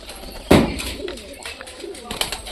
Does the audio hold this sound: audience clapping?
no